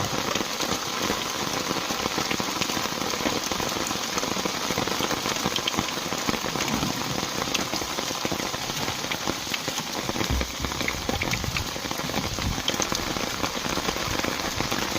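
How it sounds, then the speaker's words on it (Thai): Heavy rain pours steadily onto surfaces during a fishing-trap check, a dense continuous hiss that stays loud and unbroken throughout with no talking. "ฝนมา หนักเลยค่ะทุกคน"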